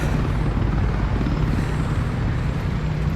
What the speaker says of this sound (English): That's where most of these helicopters have their base, is in Linden, New Jersey.